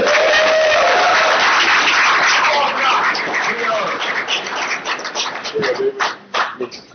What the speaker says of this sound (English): Supposed to keep clapping until they make it to the...